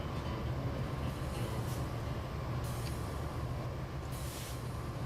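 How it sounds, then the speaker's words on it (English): Compressed air brakes hiss on a locomotive in the Railworks train simulator game, climbing a grade on Marias Pass. Several soft bursts of air rise over a steady, continuous rumble of the moving train. "Brakes are kicking off there. Air brake hiss."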